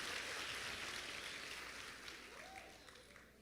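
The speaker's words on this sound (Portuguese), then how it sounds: "dá uma salva de palmas para Deus" Faint, steady applause from a church congregation, a dense patter of clapping that slowly fades.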